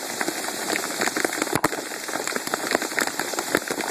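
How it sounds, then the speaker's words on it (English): Hailstones from pea to quarter size pelt down in a storm around a new Camaro SS, making a dense, loud, continuous clatter of rapid hard impacts with no talk. "Hail's been coming up for 10-15 minutes now. It just keeps intensifying."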